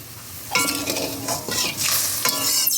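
Spice paste for mustard hilsa sautéing in a pan sizzles up loudly as it is stirred, with a few scraping and clinking strokes of a utensil against the metal, close by and without talk.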